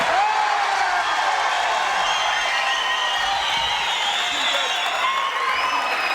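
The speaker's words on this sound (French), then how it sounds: "Mesdames, messieurs, vous pouvez applaudir car elle est là" French TV studio audience applauding and cheering, a steady dense wash of clapping with whoops and shouts throughout.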